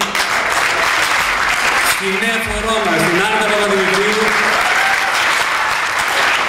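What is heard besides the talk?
audience applause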